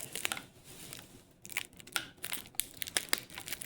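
Protective plastic film being peeled off an RC car box, close crinkling and tearing crackles in irregular bursts, faint and intimate, with no talking.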